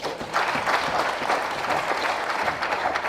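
An audience at a gathering honoring gospel singers breaks into steady applause, a dense wash of clapping that swells after a brief start and holds evenly throughout.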